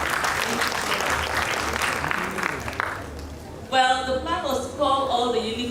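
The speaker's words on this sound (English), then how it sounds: "That's a bigger round of applause." Louder audience applause at a sickle cell foundation event, dense clapping for about three seconds that tapers off, after which a voice starts speaking over the thinning room noise.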